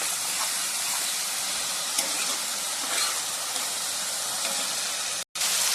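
Water splashed onto hot fried spices in a pan sets off a loud, steady broadband sizzle that holds almost unbroken for several seconds before a brief cut near the end, with no talking.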